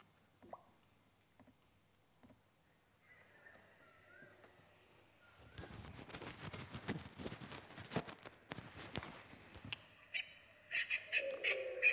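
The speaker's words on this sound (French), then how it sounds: "Il y a des oiseaux" A played recording of scattered faint bird calls and chirps, then a louder stretch of dense crackling noise, followed by more tonal bird-like calls near the end, all fairly quiet.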